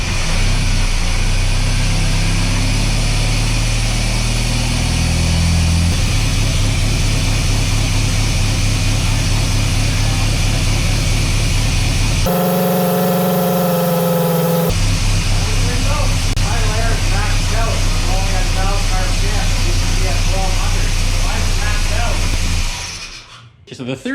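A GM engine idles loud and close while its throttle stop is being adjusted, a deep, uneven rumble that shifts in pitch and steadies partway through before cutting off at the end.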